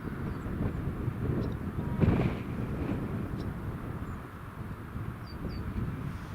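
An Emirates airliner at Newcastle International Airport gives a steady, distant jet roar mixed with wind buffeting on the microphone, swelling briefly before settling into a continuous rumble.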